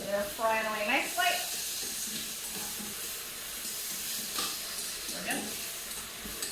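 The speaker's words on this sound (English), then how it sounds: "Yeah, so they're frying away nicely." Soft continuous sizzle of onions frying in a pan with occasional stirring, under a nearby voice talking.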